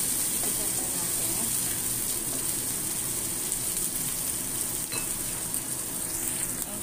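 Squid and ampalaya sautéing in a pan for adobong pusit, a steady loud sizzle and crackle throughout with occasional stirring scrapes.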